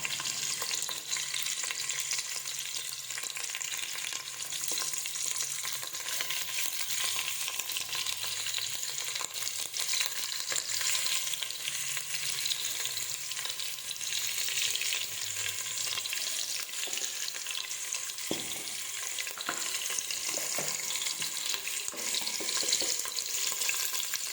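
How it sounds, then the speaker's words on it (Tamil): Continuous loud sizzling of onions, green chillies and curry leaves sautéing in a pan for Chettinad chicken biryani, with occasional stirring scrapes, steady throughout and no voices. "அப்போ தான் நல்லா வெங்காயம் வதங்கி வரும்"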